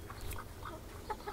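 Free-roaming laying hens on a small farm give a few soft, scattered clucks, faint and distant over a low background hum.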